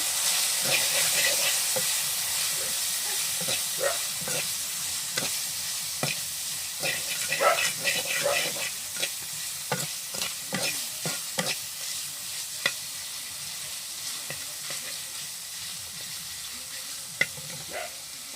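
Chicken mince seasoned with salt and ground black pepper stirred in a hot pan, with a steady sizzle and repeated scraping strokes of a spatula, close and clear, and no voices.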